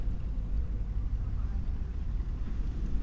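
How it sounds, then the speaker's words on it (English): A trawler fishing boat's engine at sea off a beach under a full moon, a steady low rumble with wind buffeting the microphone and faint talk over it. "that is a fishing boat"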